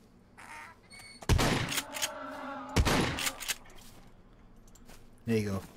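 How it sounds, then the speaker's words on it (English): In the survival video game Scum, a shotgun fires at an animal: two loud sharp blasts about a second and a half apart, each with a ringing tail, mixed with bird-like calls and other game noises. "We're going to try and use a shotgun."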